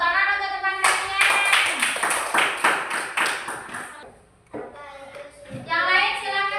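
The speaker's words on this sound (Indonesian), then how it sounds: "tepuk tangan untuk teman kalian" Third-grade pupils in an elementary school classroom clap for a classmate, a burst of quick, loud hand claps in the middle, framed by a teacher and children talking before and after.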